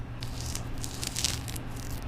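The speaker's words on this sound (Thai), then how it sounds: "เดี๋ยวจะปอกผลไม้ดูนะ" Soft, continuous peeling and scraping of fruit skin, close up, with small wet crackles and brief brighter rasps throughout.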